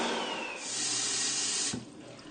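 A loud rush of toilet flushing water in a women's restroom pours steadily for almost two seconds, then cuts off abruptly into a softer trickle and gurgle.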